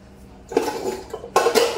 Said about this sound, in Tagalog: So ngayon maghuhugas tayo ng yung mga kaldero.